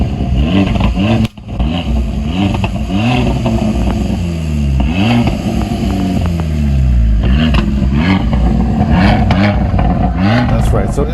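A Fiat 500 Abarth with a small turbocharged four-cylinder engine revs repeatedly, rising and falling in a raspy, close, loud snarl with clattering bursts, while people talk over it.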